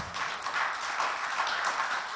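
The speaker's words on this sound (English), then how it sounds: "let's give an applause to all these people" An audience at an emergency preparedness meeting gives a short round of applause. The soft, even patter of many hands is faint and distant.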